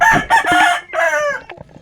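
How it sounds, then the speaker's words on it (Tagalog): A rooster crows loudly and close by, a strained, drawn-out call in two bursts ending with a few short clucks. "tumilaok ang manok."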